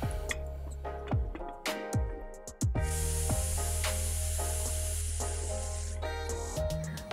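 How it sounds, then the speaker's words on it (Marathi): A pressure cooker with chicken cooking inside releases a loud, sustained steamy whistle-hiss lasting several seconds. A few sharp clicks and rattles come just before it, and no one speaks. "शिटी आपली झाली आहे कुकरची."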